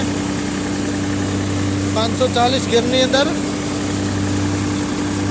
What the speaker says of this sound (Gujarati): આઠસો આઠ ટ્રેક્ટર સાડા બારસોથી તેરસોના આરપીએમ ઉપર ચાલે છે